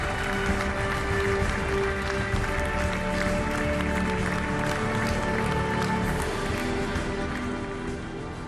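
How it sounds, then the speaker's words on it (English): Audience at the Ballon d'Or ceremony on their feet applauding Lionel Messi, a dense, steady roar of clapping from a large crowd that fills the room without a break. "All those in attendance rise to applaud Lionel Messi"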